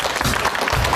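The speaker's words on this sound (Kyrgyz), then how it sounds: "Кудагый апабызга кол чаап коелу." An audience claps at a wedding celebration, a brief burst of steady, dense applause filling the whole moment, close and fairly loud.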